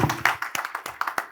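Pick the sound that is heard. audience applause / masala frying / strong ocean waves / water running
audience applause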